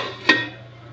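A lid is set on a cooking pot of potato and pointed gourd curry: one sharp, close metallic clink that rings briefly and fades, over a steady low hum.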